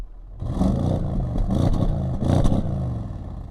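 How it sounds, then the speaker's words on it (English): A 2018 Audi S6 engine starts with a low rumble, then revs up in two or three sharp bursts, loud and close, with no talking. "nice little rumble on startup, and then give us some revs there, Biddle."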